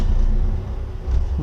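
A truck, apparently a furniture delivery lorry, rumbles past on the road nearby, a steady low engine drone with a slight swell near the end.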